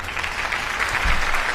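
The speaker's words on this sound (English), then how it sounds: "you got a big round of applause today" A studio audience breaks into a steady round of applause for the co-host of a shooting show, dense clapping that holds at an even level for the whole stretch with no talking over it.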